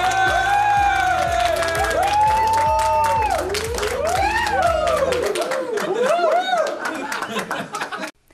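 A studio audience at a regional TV news broadcast claps in a dense, sustained round of applause mixed with laughter and chatter, then fades and stops abruptly.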